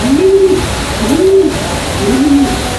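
Three slow, rising coos from a white-beaked pigeon of a Javanese type, repeated at an even pace close to the microphone over a steady background hiss.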